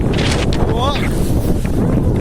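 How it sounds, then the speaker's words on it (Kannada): Steady wind during rain on a hilltop campsite roars and buffets the microphone throughout, with a brief voice sounding faintly partway through. "ಓ ಗಾಳಿ ಗಾಳಿ ಗಾಳಿ"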